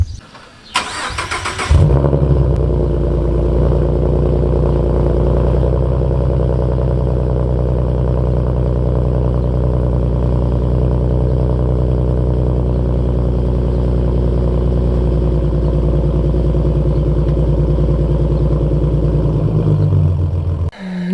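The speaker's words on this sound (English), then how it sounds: "Alright, this is the cold startup." A 3.7 V6 Mustang fitted with new headers cold-starts after a brief crank, then settles into a loud, steady, deep idle that drones on evenly for the rest of the stretch before cutting off.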